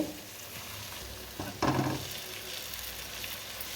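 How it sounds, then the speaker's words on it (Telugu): Dosa batter cooking on a hot pan for breakfast, a soft steady sizzle with a brief louder hiss partway through, heard close with no talking. "ఇప్పుడు బ్రేక్ఫాస్ట్ అయితే దోశలు అయితే వేస్తున్నానండి"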